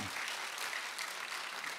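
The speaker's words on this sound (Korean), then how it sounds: "다시 한번 박수로." A church congregation applauds after a children's worship song at a Friday service, the clapping a dense, steady wash that holds at an even level throughout, with no voices over it.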